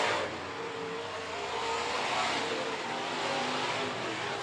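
Street stock race cars roar around a speedway during a feature race, a dense, continuous wash of engine noise at steady loudness with no talk over it.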